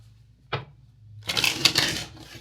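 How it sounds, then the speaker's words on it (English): Tarot cards being shuffled by hand, a brief tap followed by a dense riffling flutter of card stock, close and fairly loud with no talking. "let me shuffle"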